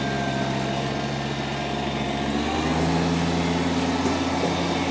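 A 2019 Kubota BX1880 compact tractor's small engine running steadily while backing up in reverse, a loud close drone with a slight pitch shift midway and no talk over it.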